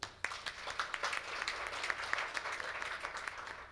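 Conference audience at a university forum applauding to welcome a speaker, a dense, fairly quiet patter of many hands heard from a distance, continuous for several seconds.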